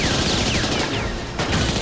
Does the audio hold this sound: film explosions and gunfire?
yes